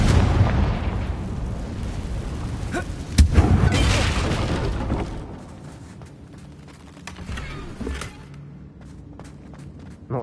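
Fiery Confringo spell blasts in Hogwarts Legacy, a loud booming burst with a sharp crack around the three-second mark, followed by rumbling debris and quieter impacts fading into lighter clatter.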